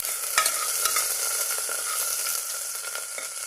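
Chopped onion frying in a pan for a chicken masala curry, a dense, even hiss of sizzling oil with a few faint stirring taps, close and constant.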